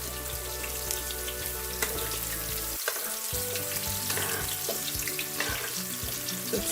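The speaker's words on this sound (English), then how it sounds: "Spoon in some of that hot oil over the dish." Hot oil spooned over seer fish chilli fry in a pan, a steady loud sizzle and crackle with brief clinks of the spoon, continuous with no talking.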